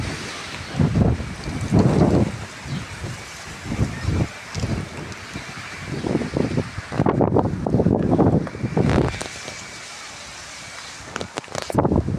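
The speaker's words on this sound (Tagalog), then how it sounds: "Malakas pa ng hangin." Strong gusty wind outdoors in Paphos, Cyprus, buffeting the microphone in loud bursts with quieter gaps between, brief voices mixed in.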